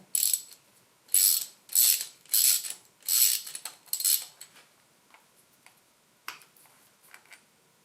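A ratchet wrench turns a rusty, loose bolt on a John Deere 755 tractor, five close, loud bursts of rapid clicking in a steady rhythm, then a few fainter, scattered clicks as the work slows, with no talking.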